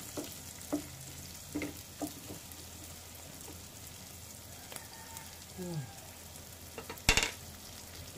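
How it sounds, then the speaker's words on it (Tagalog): Beef pieces browning in a hot pan for Filipino kilawin, a soft, steady sizzle with a few scattered stirring clatters and pops, fairly faint and with no talk. "Brown muna natin yan guys para mas babango."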